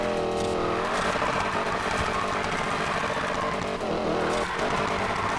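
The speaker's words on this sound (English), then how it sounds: "it's constantly hitting the limiter the entire time now" A Ford Mustang in Need for Speed Payback holds a high, buzzing engine note that keeps bouncing off the rev limiter in rapid stuttering pulses, loud and continuous with no talking.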